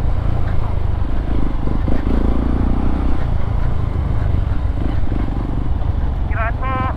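A motorcycle rides along a coastal road near a beach town in Isabela, its engine a close, steady low drone with wind rumble, while a rider talks over it and a brief horn-like tone sounds near the end.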